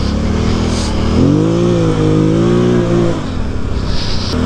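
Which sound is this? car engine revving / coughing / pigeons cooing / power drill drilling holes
car engine revving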